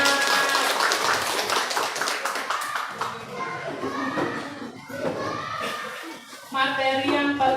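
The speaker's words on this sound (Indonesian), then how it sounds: "Tepuk tangan buat kita semua." A group of people clapping together in a workshop setting, the bursts of hand claps mixed with a person talking throughout and rising again loudly near the end.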